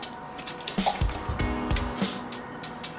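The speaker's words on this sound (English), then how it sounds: "So we're gonna pour our product" Paint product is poured into a container for spray-gun use, giving brief liquid drips and splashes, a small squishy pour heard up close without talk.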